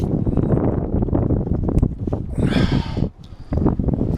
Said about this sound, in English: It's like getting super windy over here, too.